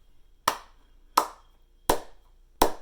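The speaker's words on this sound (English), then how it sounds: "Every other rhythm that I clap, you're going to clap back" Four sharp hand claps land in a steady, evenly spaced rhythm. They sound close and crisp against a quiet room, with no voices.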